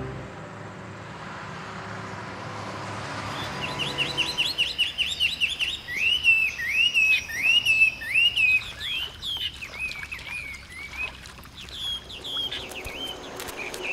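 Several birds chirp and trill in short repeated phrases beside a farm field in rural Taiwan, clear and fairly close over a soft outdoor background, starting after a few seconds and continuing steadily.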